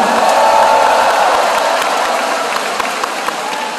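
Applause from an audience at a Democratic Party joint campaign rally in the Cheongju gymnasium fills the space as a dense, loud clatter of clapping, tapering slightly toward the end.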